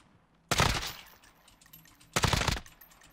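Two loud, sharp bursts of automatic gunfire from the battle royale shooter Warzone, each lasting about half a second, separated by a short quiet pause with faint background ambience.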